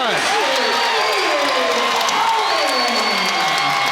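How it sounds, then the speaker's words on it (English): A basketball arena crowd roars and cheers loudly and continuously, with whoops rising over the sustained noise and an announcer's voice faintly beneath it. "you'll hear this crowd roar"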